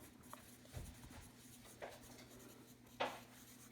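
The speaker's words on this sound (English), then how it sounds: "So let's write Edward needs" Pen or pencil writing out a math answer, heard as faint intermittent scratching strokes with a couple of sharper taps, close but quiet against a low background hum, with no speech.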